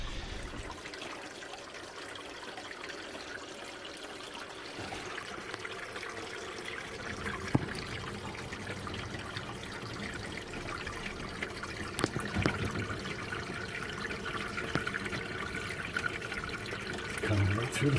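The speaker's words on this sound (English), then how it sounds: "So we're going to run the shower for a few minutes." A shower runs continuously in a house with damp, cracked floors, giving a steady spray of falling water that grows slightly fuller partway through, with occasional faint knocks.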